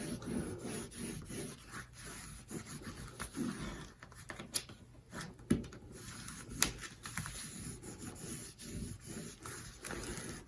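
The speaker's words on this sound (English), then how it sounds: "fold it up and over, and burnish it on." A folded paper pocket is burnished flat onto a 9 x 7 folio, giving soft, close rubbing and scraping strokes with scattered small taps and rustles, quiet and unbroken by talk.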